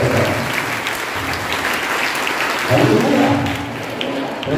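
A church congregation at RCM Church, Proddatur, breaks into steady, dense applause that fills the room evenly for several seconds, with a faint voice underneath.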